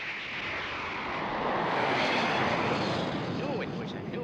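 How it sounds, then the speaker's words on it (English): A new-design aircraft in the Thunderbirds TV show roars overhead across a quiet desert, a loud broad rushing engine blast that swells and holds, with voices beneath it. "But did you see that? I certainly did. What a plane."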